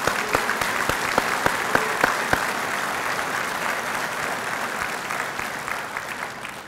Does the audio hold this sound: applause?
yes